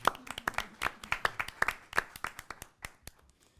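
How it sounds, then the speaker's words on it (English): A small group at a school board meeting gives a round of applause, sparse individual claps clearly separated, loud and near, tapering off within a few seconds. "Give you guys a round of applause."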